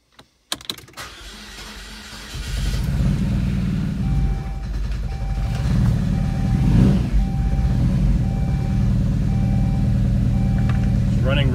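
A Saab 9-3 engine cranks and fires up after sitting for two years, then settles into a rough, uneven idle with a steady rumbling drone and faint whining tones.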